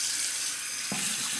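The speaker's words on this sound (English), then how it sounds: "Warm it up under the hot water." Hot water runs steadily from a bathroom tap into a sink while a shave brush or lathering bowl is warmed, a continuous close hiss with a slight change in tone partway through.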